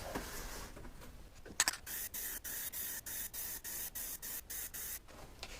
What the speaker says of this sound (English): Plastidipped, when you spray it, actually liquefies the Plastidipped under it